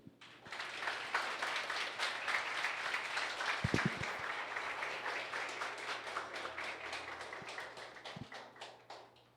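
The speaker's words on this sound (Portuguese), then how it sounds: "Você pode aplaudir" Audience applause at an evening stage show, a dense, steady wash of many hands clapping that holds at full strength for about nine seconds before tapering slightly at the end.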